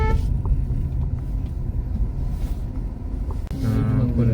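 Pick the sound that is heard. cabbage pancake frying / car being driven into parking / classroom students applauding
car being driven into parking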